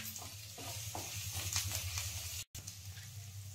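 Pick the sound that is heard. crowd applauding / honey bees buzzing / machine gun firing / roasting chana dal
roasting chana dal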